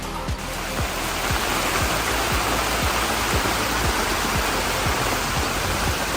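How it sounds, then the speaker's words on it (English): Steady rain drumming on a tent in a rainforest campsite at night, a dense continuous hiss with scattered soft low patters, close and even throughout with no talking. "It's kind of raining in a tent."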